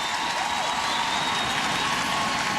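Arena crowd at a 2008 WNBA playoff game between the Sparks and Storm in Seattle, a steady loud wash of cheering and applause that holds at an even level throughout with no pauses.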